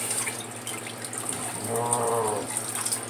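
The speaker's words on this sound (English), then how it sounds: "here's my cold water rinse" Cold tap water runs steadily into a basin for a rinse during a head shave, a close continuous splashing hiss with a brief gurgling swell in the middle.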